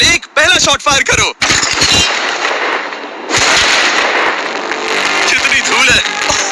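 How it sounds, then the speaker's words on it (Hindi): Five tanks fire rounds at a pile of money, producing loud, close explosive blasts in quick succession, then a sustained heavy roar and rumble followed by more sharp bangs. "ये 5 टैंक्स पैसों पर निशाना लगाकर 20 राउंड फायर करने वाले हैं"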